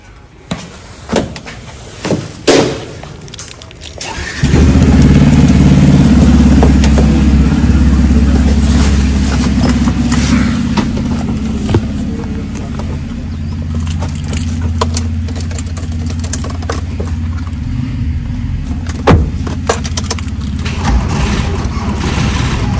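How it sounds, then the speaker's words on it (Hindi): A car engine cranks after a few brief clunks and catches, then settles into a loud, steady idle that runs on close by with occasional small knocks. "गाड़ी हो चुकी है फाइनली स्टार्ट"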